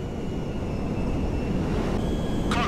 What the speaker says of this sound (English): Jet is safely over the desert.